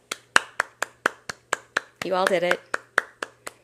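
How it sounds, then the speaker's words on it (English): Steady, evenly spaced hand claps ring out close by at a brisk tempo during a self-love healing session, briefly interrupted by a spoken voice before the clapping carries on. "Give yourself a round of applause."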